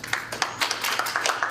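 A small number of people at a post-election political event clap sparsely, a few scattered hand claps spread across the moment rather than full applause.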